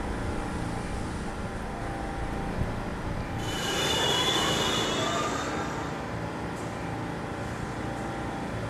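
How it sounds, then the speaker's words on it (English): An R68A car on the New York subway D line brakes to a stop, with a steady rumble of wheels rising into a loud, high squeal of braking for several seconds before it settles. "and stop train."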